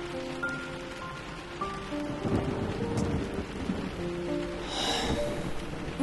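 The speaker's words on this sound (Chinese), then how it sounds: "我看这外面下雨了" Steady rain pours outside while rolling thunder rumbles through, a continuous wash of falling water with a deeper swell of thunder near the end.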